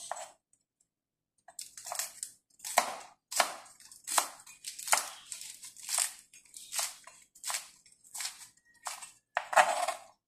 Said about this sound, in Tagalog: So, patuloy lang natin hiwain guys ang ating mga pechay